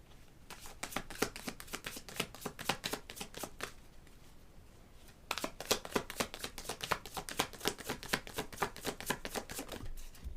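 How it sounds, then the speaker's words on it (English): Tarot cards are shuffled by hand in two bursts of rapid, crisp riffling clicks, close and fairly quiet, separated by a brief lull. "So let me pull some crime cards and see what we get on this."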